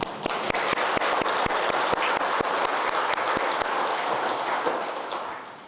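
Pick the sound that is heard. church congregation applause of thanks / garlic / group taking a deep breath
church congregation applause of thanks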